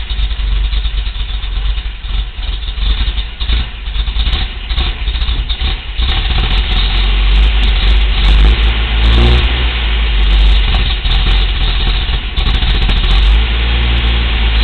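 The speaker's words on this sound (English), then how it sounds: "It's popping all over the place." A car engine idling roughly with a fault, a loud close continuous rumble with uneven pops and sputters and occasional swelling revs, no talk over it.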